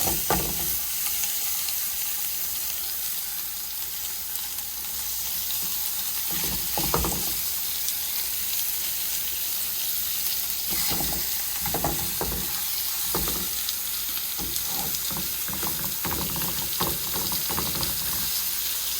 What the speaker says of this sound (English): I'm gonna drop my first one in here so y'all can hear it sizzle